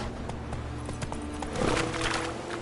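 Roach, the horse in The Witcher 3, gallops along in a steady rhythm of clip-clopping hooves, moderately close, with a brief swell of other game noise midway and no talking.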